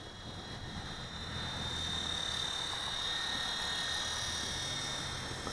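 A WLtoys V915 Seeker RC helicopter flies at full speed into a breeze, its steady high-pitched whine and buzzing rotor drone holding loud and close throughout without a break.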